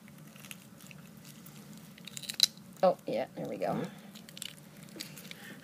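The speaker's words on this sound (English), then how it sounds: "I'm going to do some bone crunching here." Scissors snip and crunch through a chicken leg bone during a dissection, a few short cracking cuts over a steady background hum, with a person speaking briefly alongside.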